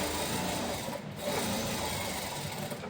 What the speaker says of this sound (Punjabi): ਹੁਣ ਸਲਾਈ ਦੀ ਚਾਲ ਥੋੜੀ ਛੋਟੀ ਕਰ ਲਈ ਆਪਾਂ ਡਬਲ ਸਲਾਈ ਲਾ ਲਾਂਗੇ